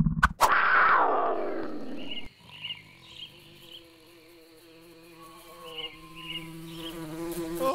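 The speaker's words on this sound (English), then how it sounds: "Crazy bee alert!" A cartoon bee buzzes in a sharp, nasal drone that wavers and swoops, following a loud burst of cartoon noise at the start, then continuing in pulsing waves as the pitch shifts, prominent and close.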